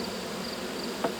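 A weak honeybee colony buzzes steadily as frames are shaken out of a hive box, a dense continuous drone with a brief soft knock near the end.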